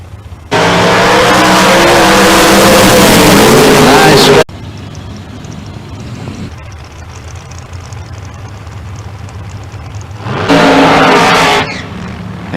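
A Firebird Trans Am drag racing car at a Verge Quick Outlaw Series event in London, its engine blasting loud for a few seconds, falling to a lower rumble, then surging again briefly; announcer commentary runs over it.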